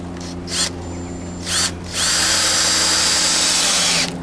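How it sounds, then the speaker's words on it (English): A power drill drives screws into wooden boards, with two short whirring bursts followed by a long, loud, sustained drilling run up close. "we take a couple screws, screw it down"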